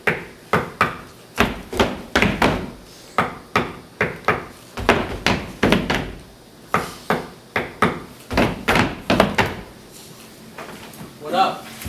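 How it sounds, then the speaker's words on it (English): Loud knocking and banging on a wooden door in a stage reading, repeated hits that settle into a steady rhythmic beat before trailing off near the end. "He is interrupted by Sully banging on the door."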